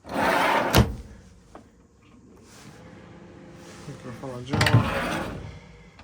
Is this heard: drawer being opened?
yes